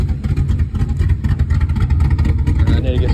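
A 1995 Ford Mustang with a rough-idling 331 stroker V8, Edelbrock Performer heads and intake, F-cam, BBK long-tube headers with X-pipe and no mufflers churns loud and close in uneven, pulsing bursts.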